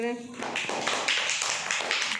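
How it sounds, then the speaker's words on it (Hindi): Children clapping their hands in a first-grade classroom during a recited poem lesson, a run of quick, fairly close claps starting just after a short spoken cue and continuing steadily to the end. "तालियां बजाओ"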